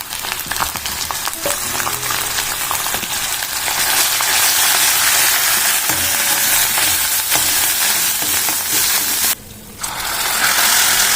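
Spices crackle and sizzle steadily in a hot pan of oil, a loud, close, continuous frying hiss with a brief dip near the end.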